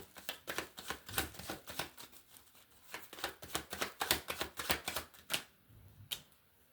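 Tarot cards being drawn and handled during a card reading, heard as a rapid, irregular run of crisp snaps and flicks, close and fairly loud, with no voices.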